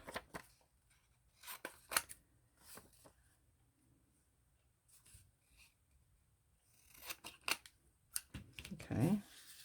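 Scissors snip through paper card several times while making a vintage-style hinged journal card, the crisp cuts coming in short bursts with quiet handling and rustling between them.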